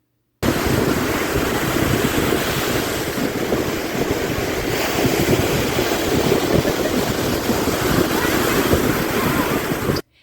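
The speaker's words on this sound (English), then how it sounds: "I'm going to put in a little video of the ocean here so you can feel like you were on vacation with me" Ocean waves roll and wash continuously with a broad rushing roar and some wind buffeting, loud and steady for about ten seconds with no talking.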